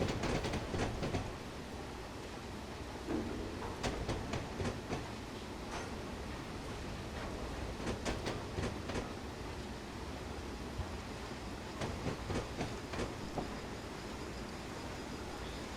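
A train rolls steadily in the Train Simulator game, its continuous rumble broken by repeated clickety-clack rail joints and sharper clanks throughout, with no voices.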